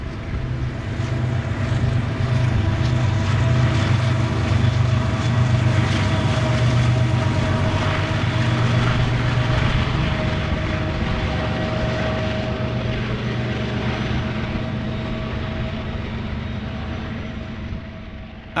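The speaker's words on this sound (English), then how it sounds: "We've edited out the middle portion of the train as DPUs number 7916 and 6360 provide power at the rear." A long freight train rolls past with DPU locomotives pushing at the rear, a steady loud rumble with a faint sustained tone that holds for the whole stretch and fades only slightly at the end.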